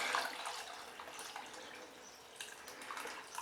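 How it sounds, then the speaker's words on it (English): Water is poured into a Thermomix of roasted tomato and red pepper soup, filling it to about 2 litres: a faint, steady trickling splash that rises and falls slightly. "And then I'm going to add the water"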